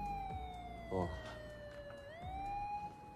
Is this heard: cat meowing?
no